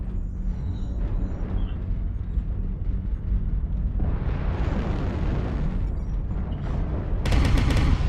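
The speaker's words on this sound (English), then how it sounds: "Artillery strike online." Artillery strike explosions in MechWarrior Online, a continuous rumble of deep booming blasts that swells midway, with a sharp crackling burst near the end.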